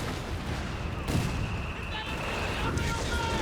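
A Panther tank fires in the Company of Heroes 3 strategy game. Two heavy cannon blasts ring out, roughly a second and a half apart, over a rumbling wartime battle ambience.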